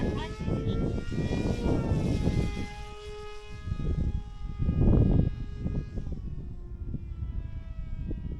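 The steady droning hum of a BD-5 light jet aircraft in flight, loud and continuous, with someone talking over it.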